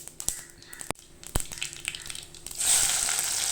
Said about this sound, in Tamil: கடுகு பொறிஞ்சோடனே வெங்காயமும் ஆரஞ்சத்தோடு சேர்த்துக்கலாம்